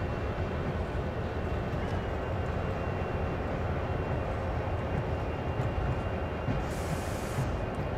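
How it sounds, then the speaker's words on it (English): A CSX heavy-haul locomotive moving along the track in the Train Sim World game, a loud, steady rumbling roar with rolling rail noise that stays constant throughout, with no talk. "back aboard the locomotive and move it up the track so it is ready to assemble more cars"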